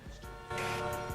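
A car horn in Grand Theft Auto Online blares in a loud, sustained tone with a few short honks, close and harsh over engine rumble.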